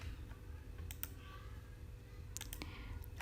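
Sparse keyboard clicks at a computer, a couple of quick taps followed by a key press, faint over a steady low hum of room noise.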